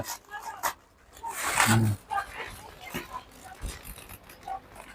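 A dog gives a short bark or yelp close by amid chatter, with other soft rustling and voices around it.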